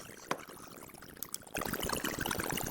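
A granular synthesis texture, re-granulated in StochGran software, forms a dense, grainy wash of tiny overlapping particles like pouring or trickling water. It runs quieter at first, then turns louder and busier about halfway through.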